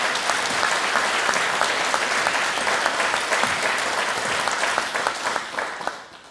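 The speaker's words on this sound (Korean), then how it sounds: "하나님께 뜨거운 감사와 영광의 박수 올려드립니다" A church congregation at a Thanksgiving Sunday worship service claps in thanks, a dense, steady wash of many hands filling the room before thinning out and fading over the last second.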